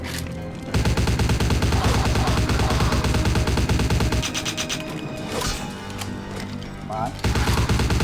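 Sustained automatic gunfire with heavy recoil in Vampire the Masquerade Bloodlines, loud and continuous rapid shots that pause briefly in the middle and then resume, with someone talking briefly over it.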